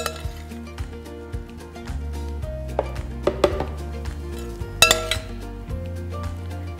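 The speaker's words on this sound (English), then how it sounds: "So I'm just gonna go and carefully spoon that all in there." Roasted root vegetables for an apple and quinoa purée being spooned into a blender, with repeated clinks and scrapes of a spoon against the jar, a few sharper knocks standing out, close and alone without talk.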